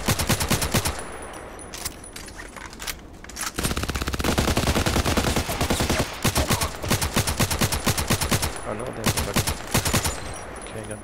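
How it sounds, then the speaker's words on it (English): RFB rifle gunfire in the Contract Wars shooter game, rapid bursts of loud shots in quick rhythmic volleys, a dense sustained stretch in the middle, with brief pauses between strings of fire. "And this is the RFB, it's just super great."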